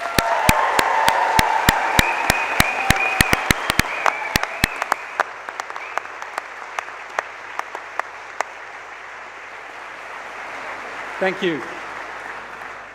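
A graduation ceremony audience gives loud, dense applause that thins to scattered, fading individual claps and then near-silence, with a short spoken voice near the end.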